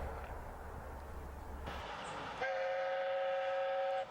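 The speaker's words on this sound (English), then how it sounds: "diesel powers its way up through to Leonora virtually every day of the week, carrying cargo" A diesel freight train rumbles past, then its horn sounds a long, steady blast before cutting off.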